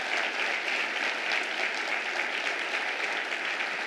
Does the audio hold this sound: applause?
yes